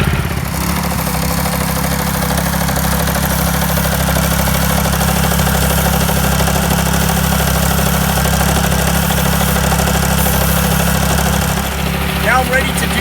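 A pavement line painter machine's engine runs at a steady idle-like drone, loud and close, holding an even pitch for the full stretch with no talk over it.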